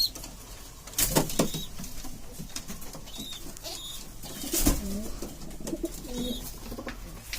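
Pet pigeons, including a racer, coo in soft repeated low calls at close range, mixed with a few sharp flutters of wings and scattered small bird sounds in a quiet loft.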